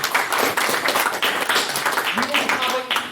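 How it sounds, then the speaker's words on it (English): A debating society audience claps in a round of applause, a dense patter of many hands at moderate volume with voices mixed in underneath. "So another round of applause for everyone who went."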